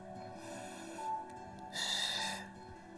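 Slow, audible breaths drawn in and pushed out during a pilates exercise, two long airy swells close to the microphone with soft background hum and no talking.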